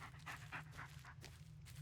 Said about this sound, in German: Da hechelt er.